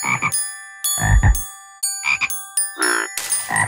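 Synthetic, game-like frog croaks come in short bursts with gaps, several distinct calls in a row over steady tonal background hums.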